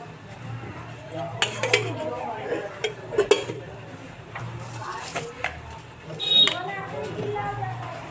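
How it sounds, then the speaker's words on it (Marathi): A metal spoon clinks against a kadhai on the gas stove as oil goes in for sabudana khichdi. The clinks are light and scattered, with a voice talking over them. "2 चमचे तेल टाकूया"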